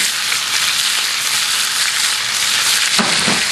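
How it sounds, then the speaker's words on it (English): Multicolored bell peppers sizzle loudly in a hot pan, a dense continuous hiss with crackling throughout and a short stirring rattle near the end. "I want to hear that sizzle."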